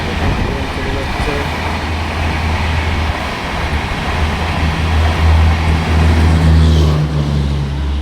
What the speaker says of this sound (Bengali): এই পাস হয়ে গেল ট্রেন।